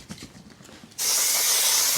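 Aerosol can sprays onto the wall trim of a VW Crafter van conversion, a sudden steady loud hiss starting halfway through and holding without a break, after a quieter stretch of faint rubbing and handling.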